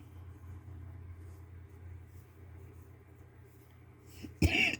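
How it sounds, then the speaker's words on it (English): A sudden loud cough bursts out near the end, close to the microphone, after several seconds of a low, steady background hum during a crochet session. "I do apologize about the coughing."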